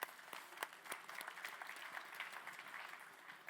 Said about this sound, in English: a warm applause will be welcome as well